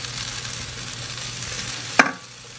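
A diced onion and garlic sizzling in oil in a pan, a steady soft frying hiss ending in a sharp clink of a utensil, no talk.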